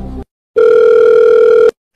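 A telephone dial tone sounds steady and loud for about a second after a brief tone, then cuts off abruptly as a call is placed.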